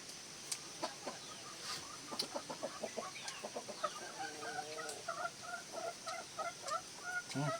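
Backyard chickens cluck and call in a lively, irregular series of short bursts, some stacked into quick rhythmic runs, moderately close but fairly quiet in an outdoor rural setting, with no talking.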